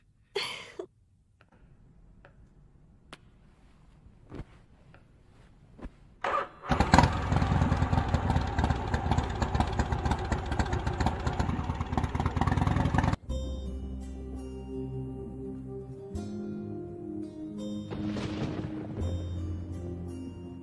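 A vehicle engine, apparently a motorcycle or scooter in a Hindi-dubbed movie scene, cranks and catches into a loud, steady running roar for several seconds, then cuts to a quieter scene with background music.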